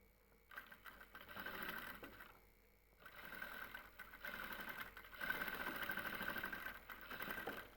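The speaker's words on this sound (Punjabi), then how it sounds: "ਨਿਸ਼ਾਨੀ ਦੇ ਉੱਤੇ ਰੱਖ ਕੇ ਲੈਸ ਨੂੰ ਸਿਲਾਈ ਲਾ ਦੇਣੀ ਆ" Sewing machine stitching lace along a marked line on fabric, whirring in steady bursts that stop and restart, close and fairly loud with no talk.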